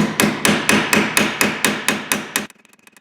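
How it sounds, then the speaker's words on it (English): Around ten evenly spaced hammer taps peen a metal rivet close up, each a sharp clink with a short ring, then fading. "I'm going to put a pointy finger on the end of the hammer here so I can just let this thing bounce gently"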